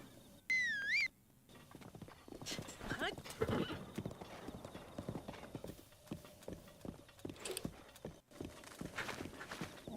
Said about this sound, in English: This is my trusty steed, Eeyore.